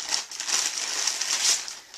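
Cut-open plastic bags crinkle and rustle as they are handled during textile and mixed media work, a continuous close, bright crackling texture that swells and eases without pause.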